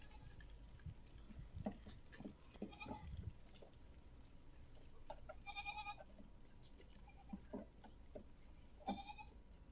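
A large herd of about a thousand goats bleats repeatedly in overlapping calls, some near and loud, others farther off, with faint patter and shuffling underneath.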